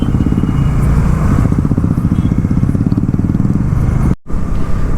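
Several motorcycles ride along the Kalyani highway, some carrying pillion passengers, their engines a loud, steady close-up rumble with wind buffeting; a brief dropout near the end.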